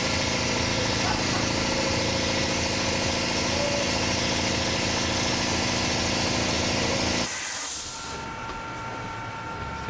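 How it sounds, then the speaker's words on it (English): An air compressor runs with a loud, steady mechanical drone and hiss, then cuts out abruptly near the end, leaving quieter room noise. "Fucking air compressor."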